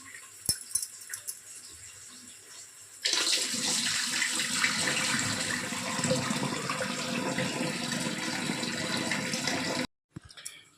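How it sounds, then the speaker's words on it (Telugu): Soaking water is poured off rice in a steady, gushing stream for several seconds, then stops abruptly. A few clinks come before it. "నేనైతే రైస్ అంతా అంటే వాటర్ అంతా వంపేసుకొని"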